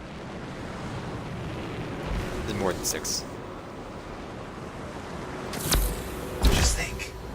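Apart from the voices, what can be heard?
waterfalls flowing backwards in the video game Anthem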